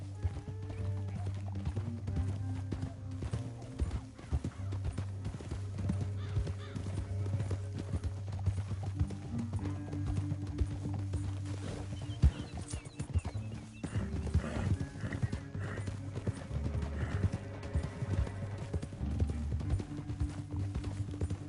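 Horse hooves in Red Dead Redemption 2 clip-clop steadily in a canyon ride, with an occasional whinny, over a constant low rumbling game soundtrack and no talk.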